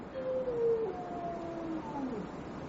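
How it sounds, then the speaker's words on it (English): A faint, long wavering howl of a hound on the moor drifts from far off, rising and falling in thin tones over a low, breathy background. "They say it's the cry of the Hound of the Baskervilles."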